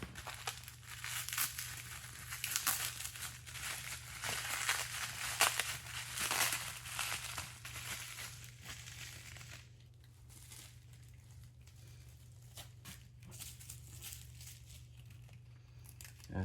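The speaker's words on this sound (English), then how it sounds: "a little bit more Scotch tape on here" Scotch tape and packaging being pulled and torn off replica animal skulls, with close, steady crinkling and tearing for about ten seconds that then drops to quieter rustling.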